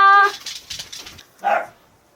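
A pet dog lets out a short bark followed by whimpering and whining sounds, close and fairly loud indoors, ending in another yelping whine; no one speaks.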